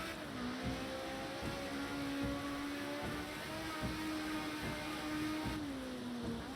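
A Ford Sierra race car in Project CARS 2 at Laguna Seca, racing in a 1998 GT championship, its engine droning steadily at high revs with rhythmic pulses and a slight pitch drop near the end, heard alone at moderate level.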